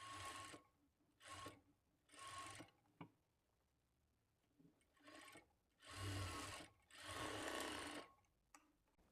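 A sewing machine stitches a kurti shoulder seam in close, steady whirring bursts of about a second each, with short pauses between runs and no talking.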